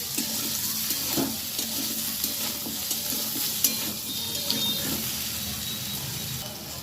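Spinach stem vegetables frying in a pan for a chorchori, a low continuous sizzle with repeated soft stirring scrapes and an occasional light knock, nearby and wordless.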